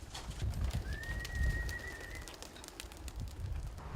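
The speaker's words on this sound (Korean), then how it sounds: "이 사육장의 비둘기들은" Racing pigeons in a loft coo softly amid a quiet, steady background hiss, with no voices.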